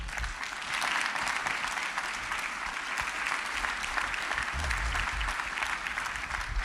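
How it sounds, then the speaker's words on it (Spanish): A church congregation claps in praise during a Spanish-language sermon, a sustained, fairly even roar of many hands with a low rumble underneath, continuing steadily for the full stretch. "Dele usted un aplauso al Señor"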